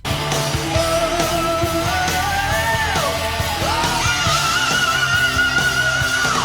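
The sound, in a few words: recording of a high sung scream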